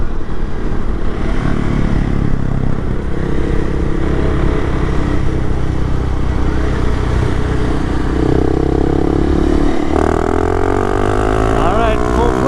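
A Honda CRF300L Rally motorcycle pulls hard at full throttle in third gear, its engine a loud, continuous roar that climbs in pitch as it accelerates, with steady wind buffeting throughout and a rider talking over it.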